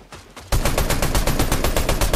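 Rapid automatic gunfire from a video game erupts after a quiet half-second, then continues as a loud, dense burst of repeated shots with no pauses.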